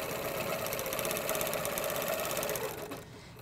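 A Handi Quilter longarm quilting machine stitches a straight line along a ruler, a steady close mechanical whir with fast needle pulsing that runs for nearly three seconds and then stops.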